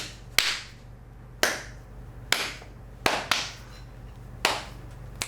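Sharp single hand claps, five or six of them spaced about a second apart, each crisp and close with a quick decay against a quiet room, marking the start of a take on a coffee-brewing shoot.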